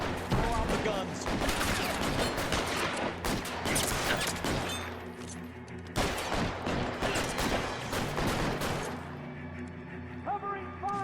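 Dense, continuous gunfire from a police shootout in L.A. Noire, rapid overlapping shots and bursts layered over a game music score throughout, easing slightly near the end.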